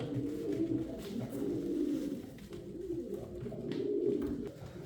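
Bozkir pigeons coo in low, rolling, overlapping calls, close and steady, with no talk over them.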